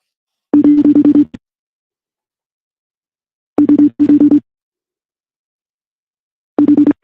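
Ringing tone of an outgoing FaceTime call, sounding as short bursts of a steady electronic tone, near and clear, repeating after long silent gaps.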